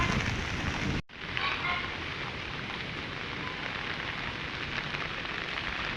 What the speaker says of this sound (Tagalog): panay na naman po ang ulan